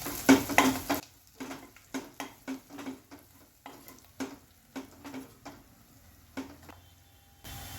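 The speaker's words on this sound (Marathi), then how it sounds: "यामध्ये आता आपण हा कांदा लसूण मसाला घालून घेणार आहोत आणि थोडीशी लाल तिखट टाकून घेणार आहोत त्याला आता आपण परतून घेऊया" Onion-garlic masala with red chili powder stirred in a pan for matar paneer pulao, a steady rhythm of spoon scrapes and clinks against the metal with a faint sizzle underneath, close and alone.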